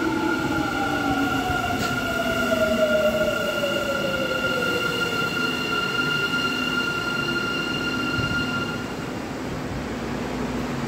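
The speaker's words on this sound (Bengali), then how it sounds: "ট্রেন আসতেছে, ট্রেন এসে ওখানে থামবে" A subway train pulls into a metro station in South Korea, its rumble steady and close while high wheel and brake squeals glide downward, then the sound eases as it slows to a stop.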